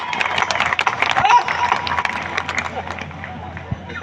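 Audience at a Hindi kavi sammelan, a comic poetry gathering, claps steadily for about four seconds, a dense, continuous patter of many hands in a hall with crowd murmur mixed in, fairly loud throughout.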